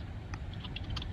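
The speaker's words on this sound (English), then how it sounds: "What are you typing?" Light computer keyboard typing gives a few soft, scattered key clicks over a steady low background hum, faint and without talk.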